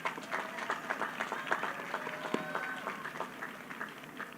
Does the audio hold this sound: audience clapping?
yes